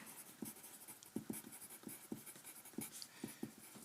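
Pen or marker writing out a geometry proof, a run of quick scratchy strokes and taps in an uneven rhythm, close and fairly quiet with no talk over it.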